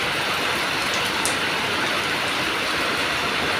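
Rain pouring down in a village, a dense, loud, steady patter of drops hitting the ground and roofs close by, unbroken for the whole stretch with no voices.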